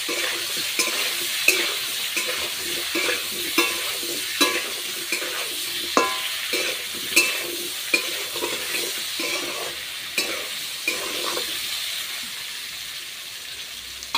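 Slices of raw banana fry in a pan with turmeric and salt while a spatula stirs them, giving sharp scraping strokes roughly every second over a soft, constant sizzle.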